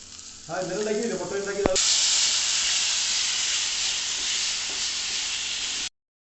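Crushed garlic, ginger and green chili dropped into a pan with onions for a chicken curry, a brief voice and clatter first, then a sudden loud, steady sizzle that runs for several seconds before cutting off.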